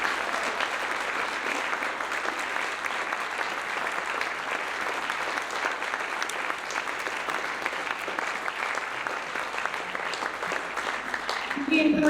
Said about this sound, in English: can we get one more round of applause for the panel?